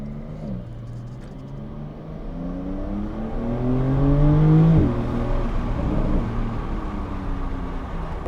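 A Porsche 911 Turbo of the 992 generation drops a gear, then pulls hard with a steadily rising engine note that swells loud and close before easing into a sustained roar.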